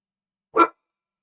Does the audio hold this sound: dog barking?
yes